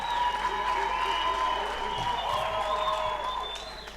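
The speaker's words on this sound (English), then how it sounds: "Let's give both of these fighters a big round of applause" A crowd applauds two boxers after a six-round bantamweight bout at the Victory Theatre in Houghton Estate, with steady clapping throughout that fades slightly toward the end.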